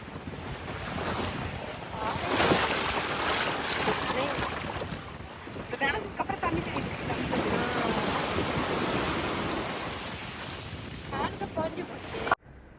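Sea waves breaking on a beach at Dumba Bay Resort on a Malaysian island, a steady loud wash of surf with gusty wind buffeting the microphone and faint boat sounds, continuous throughout.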